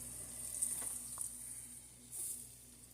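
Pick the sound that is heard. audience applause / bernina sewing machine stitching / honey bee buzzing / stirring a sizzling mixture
stirring a sizzling mixture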